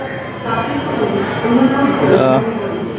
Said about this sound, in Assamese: গুৱাহাটীৰ পৰা যোৰহাট যোৱা ট্ৰেইনখনত উঠিছোঁ।